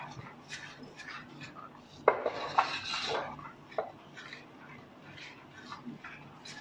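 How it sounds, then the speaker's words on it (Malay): A spoon scrapes and clinks against a pot while stirring a sweet durian dessert sauce mixture, with a few louder knocks among softer rubbing, close by under faint background noise. "So jadi kita kena kacau dia."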